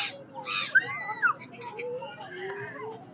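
Crows being fed in a park in Sharjah give several short, harsh cawing calls at moderate distance, with a steady hum of outdoor background noise underneath.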